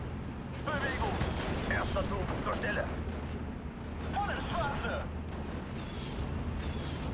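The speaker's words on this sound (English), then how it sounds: "Mosquito is going to come in. That's actually going to bomb some of my Fallschirmjägers." Mosquito aircraft making a bombing run over Fallschirmjäger troops during a Normandy 1944 battle, with dense rumbling booms and battlefield fire running continuously under a talking voice.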